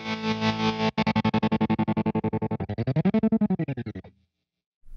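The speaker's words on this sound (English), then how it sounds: "holding the left foot switch unleashes insta-chop" A distorted, sustained guitar chord is sliced into fast, even rhythmic chops by a Diamond tremolo pedal's momentary insta-chop effect, then abruptly cuts to silence.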